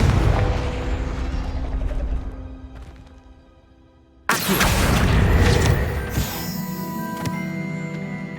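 A Confringo blasting spell in Hogwarts Legacy erupts in a sudden loud burst after a quieter stretch, followed by a sustained roaring, crackling rumble with a few sharp impacts as the blast fades.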